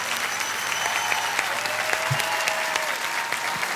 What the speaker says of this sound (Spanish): aplauso, señor.